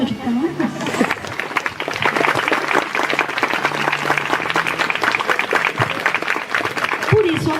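Wedding guests applaud during the ceremony for Carol and Pedro, a full, rippling wave of many hands that swells and holds for several seconds, with a voice talking briefly at the start and again as it ends.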